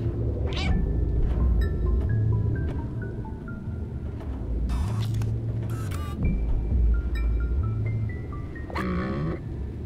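A cat in the video game Stray meows a few short times over a steady bed of game music and ambience, the calls fairly close and moderately loud.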